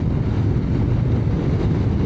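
Heavy wind buffets the microphone of a rider on a Royal Enfield Guerrilla 450 motorcycle in a constant low roar, loud and close, with no voices over it.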